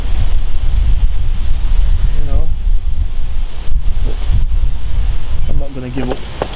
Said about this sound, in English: the wind's blowing into this corner